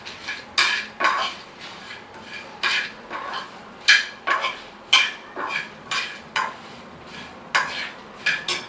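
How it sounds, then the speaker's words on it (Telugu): Dried coconut pieces are stirred into a ridge gourd curry in a pan: a metal spoon clanks and scrapes against the pan in a regular rhythm of sharp knocks, close and fairly loud, over a faint sizzle. "ఎండు కొబ్బరి వేసుకోండి, జస్ట్ అలా కలిపేసుకోండి"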